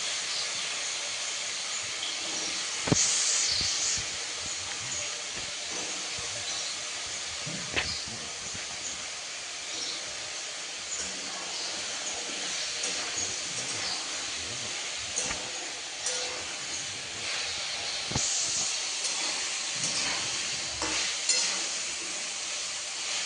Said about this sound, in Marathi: टाकते बघा तळायचं म्हणून आता बटाटे टाकले बघा.